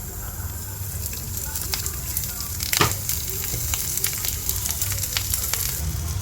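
Coriander, chili, coconut, curry leaves and shallots fry in coconut oil for a jackfruit theeyal, giving a steady close sizzle with light stirring scrapes and one brief louder clatter midway.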